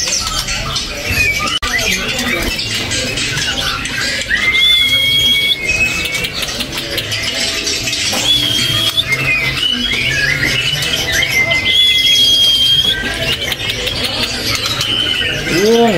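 White-rumped shama (murai batu) singing loudly and continuously, bright whistled phrases and squawky trills repeating throughout, with a steady noisy background underneath.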